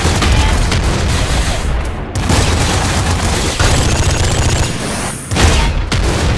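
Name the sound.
flame shotgun gunfire in video game Nuclear Throne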